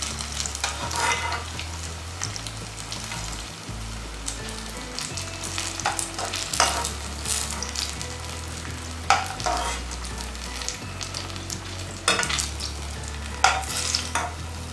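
Banana snacks frying in hot oil in a home kitchen, a steady close crackling sizzle with occasional stirring scrapes and a low hum underneath, with no talking.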